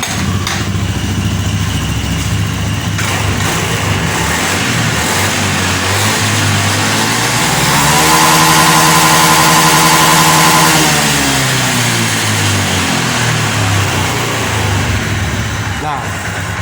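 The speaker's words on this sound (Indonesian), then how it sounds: "Oke, kita engkol lagi." A motorcycle engine with an intermittent stumble and a blinking check-engine light, fuel-injected with a throttle position sensor, is kick-started, then idles loudly and revs up to a sustained higher pitch around the middle before dropping back to idle.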